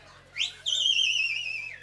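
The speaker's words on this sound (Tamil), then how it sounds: "ஏன் ஆம்பளை விசில் அடிக்கிறேன்?" A man whistles a single loud, bright rising note that steadies into a sustained tone, close and alone against a quiet background.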